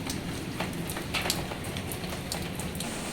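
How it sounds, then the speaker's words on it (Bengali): Rain falling steadily outside a home kitchen, a constant soft patter with scattered sharper drops, even and moderately close, with no voices. "আর এদিকে হচ্ছে বৃষ্টি পড়ছে।"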